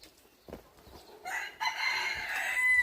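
Chickens cluck and a rooster crows nearby on a mountainside farm, the birdsong growing louder and fuller in the second half over a busy outdoor background.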